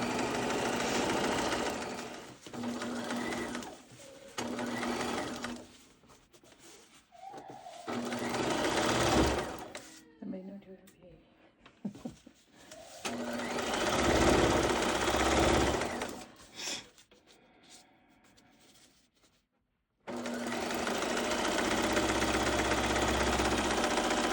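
A sewing machine runs a seam on a baby boy's outfit in several bursts of fast stitching, separated by short pauses and handling noises, close and fairly loud, with a final run at the end.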